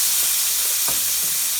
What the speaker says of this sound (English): frying the cheese on the pan